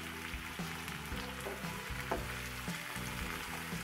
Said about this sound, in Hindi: निकालने से पहले हम इसमें डाल देंगे मटर, और मटर को भी हम थोड़ा सा फ्राई कर लेंगे।